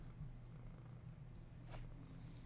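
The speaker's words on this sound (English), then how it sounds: "If you're kind of newer to the channel, this is my cat Hawkeye." A pet cat purrs steadily and close by, a soft continuous rumble that runs unbroken throughout, with a faint brief rustle near the end.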